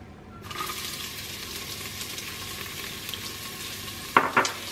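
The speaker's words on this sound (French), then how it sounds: "je fais revenir un oignon jaune que j'ai ciselé tout à l'heure" Chopped yellow onion fries in hot oil inside a Cookeo multicooker. A steady, close sizzle starts abruptly and holds evenly throughout. A couple of sharp utensil clinks come near the end, with no talking.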